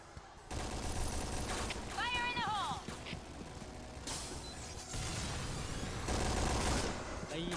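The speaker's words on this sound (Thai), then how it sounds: "ได้ยินแต่เสียงกระสุนครับแต่ยังไม่เห็นจบฮะ" Rapid bursts of video game gunfire crackle almost nonstop in a competitive esports match, dense and fairly loud, with a commentator talking excitedly over the shooting.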